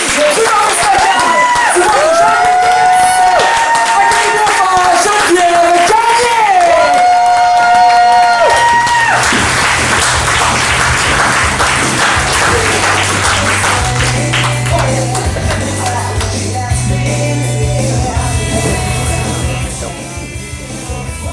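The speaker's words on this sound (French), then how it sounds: "j'aimerais qu'on lui donne une bonne main d'applaudissement, mesdames et messieurs" At a comedy evening in a microbrewery, someone speaks to the crowd, then a bar audience breaks into loud, dense clapping and cheering that runs on for several seconds while music starts up underneath.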